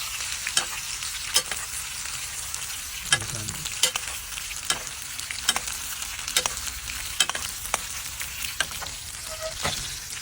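Steak frying in a pan, giving a steady close sizzle throughout, dotted with light clicks and scrapes from stirring or turning.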